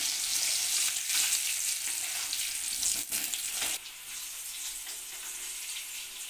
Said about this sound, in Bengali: তেল গরম হয়ে গেছে, এবার আলুগুলো ভেজে নিচ্ছি।